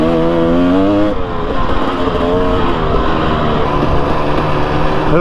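A 2018 Husqvarna TX300 two-stroke dirt bike roars loud and close through fast, open riding, its engine note climbing and dropping steadily as it pulls through the gears.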